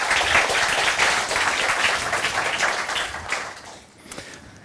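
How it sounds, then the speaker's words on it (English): An audience at a Falling Walls 2015 science talk gives a speaker a big round of applause, dense sustained clapping that fades toward the end, with a brief voice near the close. "Big round of applause"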